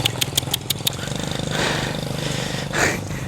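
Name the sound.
motorcycle riding on a damaged road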